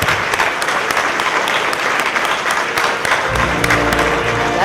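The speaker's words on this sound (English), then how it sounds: "let's hear another round of applause for another outstanding group of innovators" Audience applause for Florida Inventors Hall of Fame inductees fills a large event hall, a dense, steady clapping that continues throughout with no voices over it.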